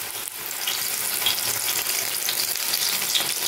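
Coriander leaf pakoras fry in hot oil with a steady, dense sizzle that carries on without a break, close and fairly loud, with no voices over it.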